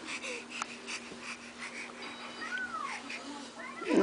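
A cat gives a short, faint meow partway through, mixed with breathy noises from the animal and quiet talk nearby.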